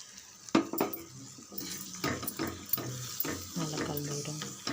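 Tamarind being dissolved and squeezed in water in a bowl for poondu kuzhambu, with splashy water sounds, clinks of the bowl and soft squelching in irregular bursts, close and moderately loud.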